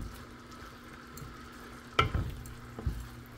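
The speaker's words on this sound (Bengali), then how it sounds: "তারপরে এই যে পেঁয়াজটা শত করে এই চিকেনটা দিয়ে দিয়েছি। এখন একটু নাড়াচাড়া করে নিচ্ছি।" Chicken and onion are stir-fried in a pan, giving a faint, soft sizzle beneath a few sharp clinks and scrapes of a utensil knocking the pan around the middle and near the end.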